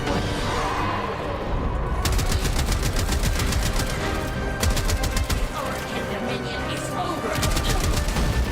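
Trumna weapon fire in Warframe, rapid repeated shots in several fast bursts over a dense, loud game soundscape, with speech layered on top.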